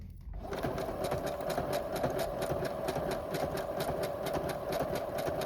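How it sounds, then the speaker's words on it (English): A sewing machine zigzag stitches along the edge of a journal pocket, giving a steady, close, rapid mechanical whir with a rhythmic needle clatter that runs continuously after a brief start. "Is I zigzag halfway across the edge, so it looks like I've serged it."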